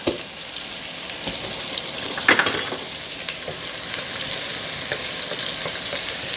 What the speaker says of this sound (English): We're just going to cook the onion until it's translucent.